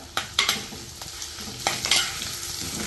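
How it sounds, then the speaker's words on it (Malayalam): Pineapple pieces are stirred and sautéed in a hot pan with curry leaves for a pickle. A spatula scrapes and clacks in quick strokes over a steady close sizzle. "എടുത്തു വെച്ച പൈനാപ്പിൾ ഇട്ട് കൊടുക്കാം. ഇത് കുറച്ച് സമയം ഇളക്കി വഴറ്റാം."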